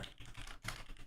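Quick, light keystrokes on a computer keyboard as an address is entered, a brisk cluster of soft clicks heard close up with a short pause between bursts.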